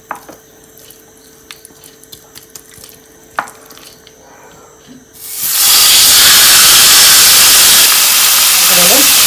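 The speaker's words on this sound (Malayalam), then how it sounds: "ഇനി നമുക്കിത് ഫ്രൈ പാനിലോട്ട് ഇട്ട് കൊടുക്കാം." Marinated Alfam chicken goes into a frying pan. Quiet handling clicks give way suddenly to a loud, steady, close hiss of sizzling that fills the rest of the clip.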